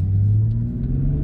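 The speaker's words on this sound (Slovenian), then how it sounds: "avto je zdaj malo bolj glasen, malo bolj glasno poka" A 2020 Toyota Supra fitted with an Akrapovic exhaust rumbles steadily at low revs, a deep, loud and close drone that holds almost level throughout.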